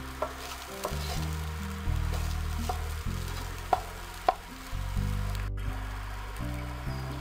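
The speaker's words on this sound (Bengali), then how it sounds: "লবণ দেওয়ার পর আবার এটাকে ভালোভাবে নাড়তে হবে।" A salted potato mixture is stirred in a frying pan, with a steady sizzle of frying beneath repeated scraping strokes of the spoon and a couple of sharper knocks against the pan.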